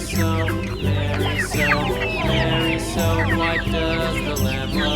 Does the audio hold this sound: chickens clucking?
yes